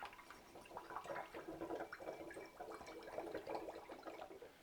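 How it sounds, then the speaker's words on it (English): Homemade blanc vermouth is poured through a fine mesh strainer into a bottle, producing a faint, continuous trickling and gurgling of liquid. "we're going to pour this through a fine mesh strainer into our bottle"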